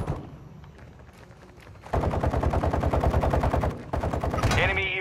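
Gunfire crackles through a Call of Duty: Warzone Resurgence match on the Vondel map, starting as sparse distant shots, then turning into sustained loud rapid automatic bursts from about two seconds onward, with a sharp burst near the end.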